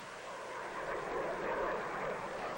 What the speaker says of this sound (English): Jet plane flies a lot higher and faster than Quacker.